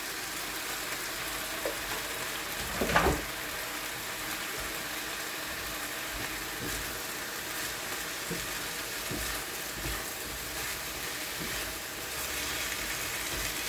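Vegetables for homemade beef and broccoli sizzling in a pan on medium heat, a constant dense crackle and hiss with a single clatter early on.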